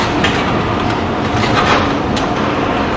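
A green Prague metro train running, a loud continuous rumble and roar from close by, with faint rhythmic clatter on top and no voices.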